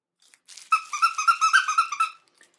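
A plush squeaky dog toy shaped like a can of cranberry sauce, with a custom squeaker and crinkle inside, squeaks about ten times in a quick, even rhythm, close and clear with no talking.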